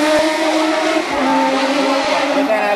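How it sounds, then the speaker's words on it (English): A Mitsubishi Evolution 8 race car slides through a corner at a circuit race, its engine droning loud and close with a strained, tonal howl throughout. "Look at David Somerville sliding the Evolution in the corner."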